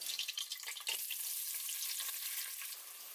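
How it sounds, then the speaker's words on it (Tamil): Sliced onion fries in melted ghee with bay leaves, cardamom and cloves for mutton biryani: a bright, hissing sizzle close up, crackling unevenly at first and then settling into a steady, even fizz. "நெய் உருகுனதும் இதுல 2 பிரியாணி இலை, 3 ஏலக்காய், 3 கிராம்பு, அப்புறமா ஒரு பெரிய வெங்காயம் சேர்த்துக்கோங்க."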